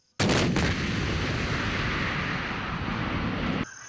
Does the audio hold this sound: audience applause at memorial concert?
no